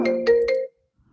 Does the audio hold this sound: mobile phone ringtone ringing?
yes